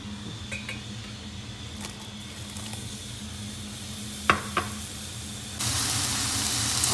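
Mushrooms and white onion fry in olive oil in a pan with a steady close sizzle, broken by a couple of sharp utensil clicks against the pan, and the hiss swells louder near the end.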